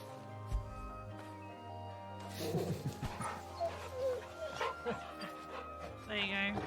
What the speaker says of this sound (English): my dog is here.